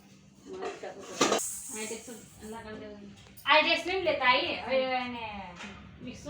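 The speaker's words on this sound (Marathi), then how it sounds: "स्वयंपाक वगैरे चालू मस्त बघू शकता" Pots and pans clatter while paneer is cooked in a home kitchen, with one sharp clank early on and lighter knocks scattered under nearly continuous conversation.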